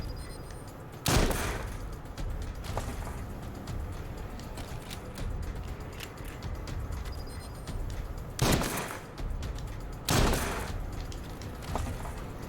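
Video game gunfire from shooting at enemies, a constant crackling barrage with a few louder, sharp blasts punching through at intervals, dense and close throughout.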